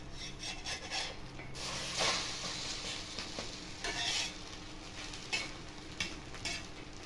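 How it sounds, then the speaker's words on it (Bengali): Beaten egg omelette with tomato frying on a tawa for a bread omelette sandwich, with a soft sizzle under repeated scraping and stirring of a spatula against the pan, close and steady, no talk. "ভালো করে ফেটিয়ে নিয়ে চাটুতে দিয়ে দেবো আমলেটটা আগে বানিয়ে দেবো"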